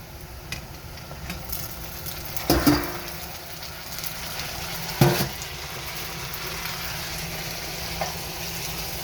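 Brinjal frying in a pan: steady, close sizzling throughout, with a few brief louder clatters of stirring.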